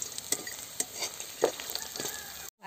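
Onion and bari lentil dumplings fry in a pan, a steady close sizzle broken by several sharp scraping clacks of stirring, ending abruptly in silence.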